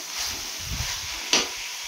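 Carrots frying in oil in a pan while being stirred, a steady soft sizzle with a couple of brief scraping strokes, one sharper near the end; no one talks.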